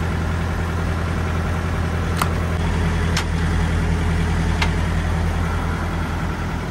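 A truck engine runs steadily at a low, even rumble close by as the rig pulls away from an unhitched trailer, with a few brief hissing bursts of air over the drone and no talking.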